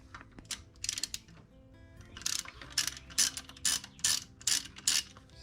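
A ratchet loosens a 10 millimeter bolt on the A/C line of a Jeep Cherokee, giving repeated bursts of close, crisp clicking in an uneven rhythm, with short pauses between strokes and no talk.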